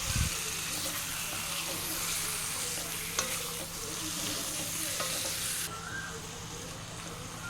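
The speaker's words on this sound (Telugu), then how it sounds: "చికెన్ వేసి బాగా కలపాలి." Chicken is stirred in a hot pan for chicken handi, with a continuous soft sizzle and scraping of the spoon, a few sharper clinks along the way, and quiet talk over it.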